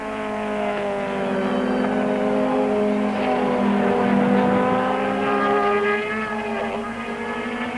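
Modified touring cars race around the Killarney track in 1994, engines revving and droning steadily with rising and falling pitch, loud and close like an in-car run, no talk.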